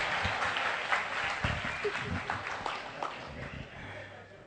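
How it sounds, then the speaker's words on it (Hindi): An audience at a comedy poetry gathering for Agrasen Jayanti in Kaithal applauds, a steady wash of many hands clapping at a moderate distance that slowly fades. "तालियां बजा दो"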